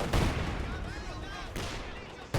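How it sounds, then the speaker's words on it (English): A distant artillery barrage from the 2014 strategy game Company of Heroes 2, with a few heavy thuds and sharp blasts separated by rumbling gaps, sitting under a commentator's voice. "This barrage is going to barrage the MG44 over here."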